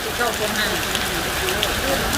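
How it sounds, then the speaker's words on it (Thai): Rain falls steadily at an outdoor shrine during a prayer ritual, a dense, even patter of drops close by that continues without a break, with a voice talking over it. "ก็ เกิดฝนตกนะคะ ตอนนี้"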